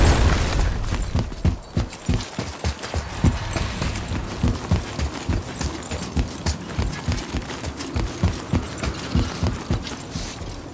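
Horse hooves clip-clop in a steady rhythmic gait in the God of War (2018) video game, loud and close, with creaks and mechanical game sounds in the background.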